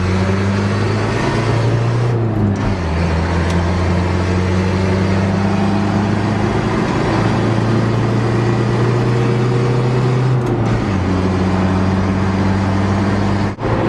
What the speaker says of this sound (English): Let's see if we can get a second gear scratch here.